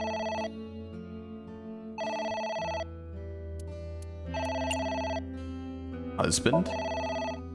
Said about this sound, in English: It's the phone. Maybe try picking it up?